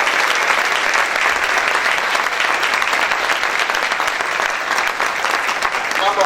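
A church congregation claps loudly and continuously for the whole stretch, a dense, steady wash of applause during a worship service.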